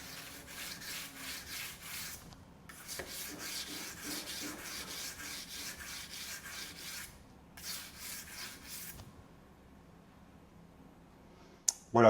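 Kitchen knife blade drawn across a Japanese-style whetstone, steady rubbing strokes in runs of several seconds with short pauses, close and moderately loud, no voices.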